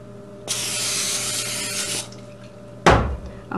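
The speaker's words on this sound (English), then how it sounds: "spray this lightly" Two bursts of cooking spray into a dish: a steady hiss lasting about a second and a half, then a short, sharper spurt after a pause, close and fairly loud.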